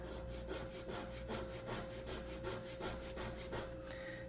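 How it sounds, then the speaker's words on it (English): Rhythmic hand sanding on a basswood oar, about a dozen even back-and-forth strokes, close and steady, with a faint constant hum underneath. "continue sanding it evenly on both sides"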